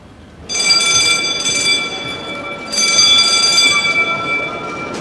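An electric alarm bell in a Victorian-era prison rings loudly and continuously, with a brief dip partway through before it resumes at full strength, harsh and metallic, close by without speech.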